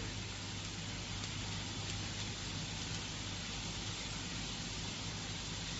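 Steady, dense sizzling from grated fresh turmeric frying in a pan for fish curry, a constant hiss and crackle throughout with no talking.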